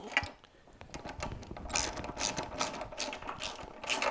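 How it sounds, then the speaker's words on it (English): A ratchet wrench on a long extension tightens nuts and bolts while assembling a 3-inch wood chipper, giving quick repeated clicking bursts at close range. "you can really ratchet pretty quickly"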